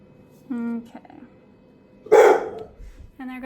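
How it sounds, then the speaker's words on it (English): Indoor dog barks at a cat outside, two short sharp barks with a louder, noisier yelp between them, heard fairly near over quiet room tone. "there goes my dog because there's a cat outside"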